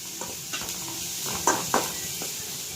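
Cheese noodles being stirred and fried in a pan, with soft sizzling and a few scraping, clinking stirs against the pan over a short stretch.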